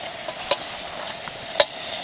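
Garlic fries in a pan over a camp stove on North Manitou Island, giving a steady close sizzle while a spoon scrapes the pan twice in sharp, distinct strokes, with no voices.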